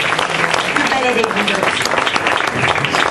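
A school audience at a Liceo Lauria event applauds a singer, dense loud clapping from many hands, continuous and close, with voices mixed in.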